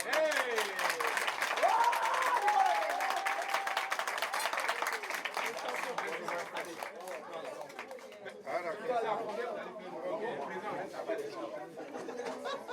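An audience at a presidential investiture ceremony claps continuously for several seconds, dense applause mixed with crowd chatter and voices, gradually thinning toward the end.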